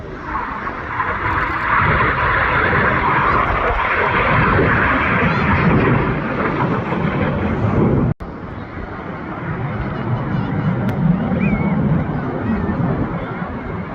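Red Arrows jets roar overhead at the Wales Air Show in Swansea, a loud sustained rushing engine noise that swells and shifts as the aircraft pass, with crowd and commentary voices underneath.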